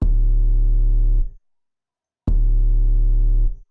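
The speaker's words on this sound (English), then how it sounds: "the 808 that I used in my part just sounds like this" An 808 bass made louder with wave shaper distortion and a 70 Hz boost plays two long, booming sustained notes, each ending in a quick fade, separated by a gap of silence.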